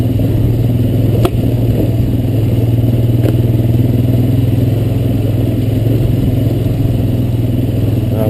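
A Honda Recon ES ATV engine drones steadily while riding wooded trails, a loud, close, constant mid-pitched hum with occasional clattering knocks from the terrain.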